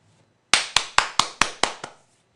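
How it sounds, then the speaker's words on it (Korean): Seven crisp hand claps ring out in an even rhythm, close and loud against near silence, the last one slightly softer. "여기 안에 1번 누르신 분들은 박수 나갑니다"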